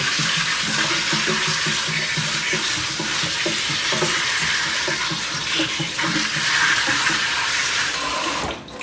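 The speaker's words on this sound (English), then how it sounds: "I'm going to turn this down just a bit, and I'm going to turn the sprayer on" Kitchen sink sprayer running a steady rush of water over freshly harvested chocolate mint, a constant close hiss with light splashing and no talk.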